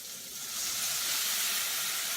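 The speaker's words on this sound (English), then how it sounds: "so I'll go ahead and pour the water in" A loud, steady hiss of sizzling swells up as water is poured into a hot pan of browning Brussels sprouts, rising within a second and holding strong.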